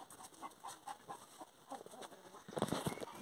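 Young Galinha Sertaneja Balão hens cluck softly in a scattered, irregular rhythm, with a louder burst of clucking near the end over a quiet farmyard background.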